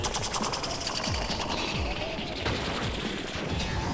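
A voice imitates a helicopter with rapid, chopping mouth noises, a dense continuous rattle that stays loud throughout.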